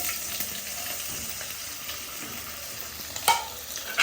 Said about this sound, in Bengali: এখন কি তুমি সসেসটা ফ্রাই করবা?